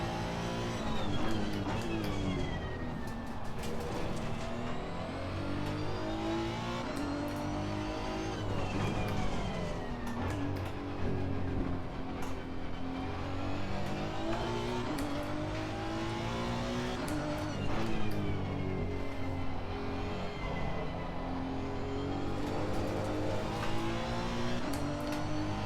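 A Honda NSX race car engine revs hard and steadily in Assetto Corsa Competizione, rising and falling through gear changes at a racing circuit, loud and continuous throughout with no talking.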